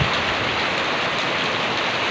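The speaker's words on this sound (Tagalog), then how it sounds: "Binigyan din sa Panginoon ng ulan sa wakas." Steady, heavy rain pours down in Norzagaray, Bulacan, an even, unbroken hiss of drops striking surfaces close by, with no voices.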